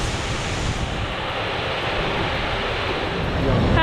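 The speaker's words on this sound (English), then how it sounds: "It's a beautiful waterfall, Rainbow Falls, 150 foot, by the way, that drop." Rainbow Falls, a 150-foot waterfall in Gorges State Park, roars with a constant broadband rush that holds steady and swells slightly near the end, with no voices.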